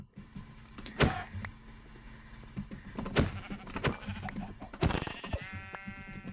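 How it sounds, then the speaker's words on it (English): Sheep in a video game bleat several times in short, sharp calls, clear and fairly close, over a low steady game background with no talking. "Yeah, there's more sheep over here."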